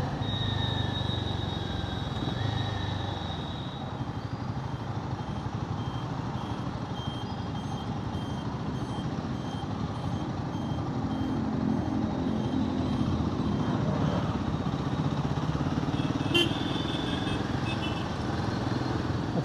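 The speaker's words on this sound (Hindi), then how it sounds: "सुबह का टाइम है लेकिन ट्रैफिक ऐसे हो रहा है जैसे कि पता नहीं कौन सा वर्किंग डे है" Weekday-busy Saturday morning road traffic in Hyderabad rumbles steadily, with engines droning and a vehicle's reversing beeps repeating in the background throughout.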